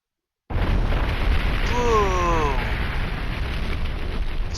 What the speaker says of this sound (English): Such a powerful explosion, it knocked off armor panels off the legs